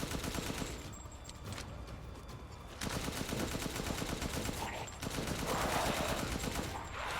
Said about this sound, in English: And I like to move backwards while I shoot them.